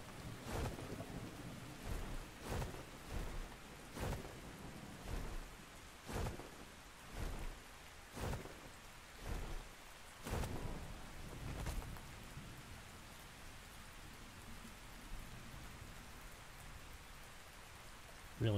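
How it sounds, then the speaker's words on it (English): Steady rain in Ark falls alone as a dense, even hiss, with regular soft thumps during the first part before settling into an unbroken wash. "I love how when it rains, everything gets a wet sheen."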